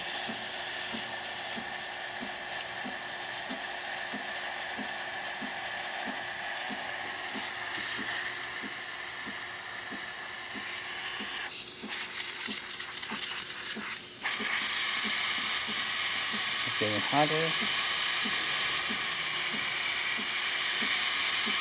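A Breville espresso machine builds pressure with a continuous, steady hiss of steam, broken by a brief rough burst and a short gurgle, while someone briefly speaks.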